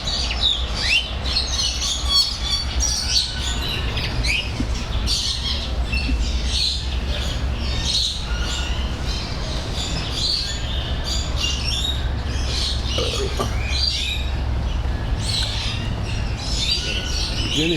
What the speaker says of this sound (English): Guinea fowl back here in the corner.